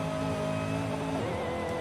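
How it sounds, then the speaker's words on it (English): A car engine in the Call of Duty video game screams at high revs with a harsh, rattling buzz, a sustained steady drone held close and loud with no talking over it. "Why does this car sound like it's rattling apart at high rev?"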